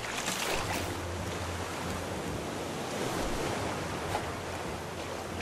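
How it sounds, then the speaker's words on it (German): Loud, steady ocean waves and surf wash over a continuous broadband roar in the survival video game Raft, with no speech over the water. "Oh, ist das laut mit den Wellen. Die Wellen sind richtig laut."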